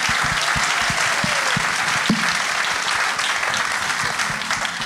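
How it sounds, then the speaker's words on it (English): Sustained audience applause fills a symposium hall, a dense, steady wash of many hands clapping at even loudness throughout, with no talk over it. "I think he deserves a round of applause."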